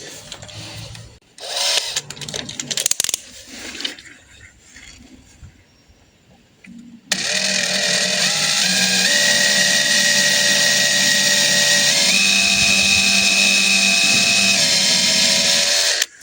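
A small 1.5 mm drill bit bores into a part from an Alfa Romeo 33 1.7 16V during a body teardown. After a few seconds of quiet handling noises, a loud, steady high-pitched drill whine runs continuously with slight shifts in pitch.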